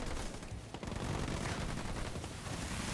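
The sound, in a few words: sniper gunfire in video game Halo Wars 2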